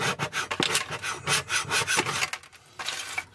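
Old varnish scraped from woodwork along the grain makes rhythmic rasping strokes, close and fairly loud, about six scrapes with a brief pause near the end.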